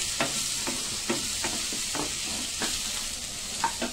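Whole spices such as cumin, fenugreek and coriander seeds frying in a pan for fish curry: a steady, close sizzle punctuated by regular soft scrapes of stirring.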